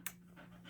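Dogs pant in quick, soft, breathy bursts, close by and faint, in one brief moment.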